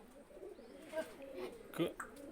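Soft, low cooing from a pigeon of the Kane wali breed, a few brief murmuring calls close by amid faint background noise.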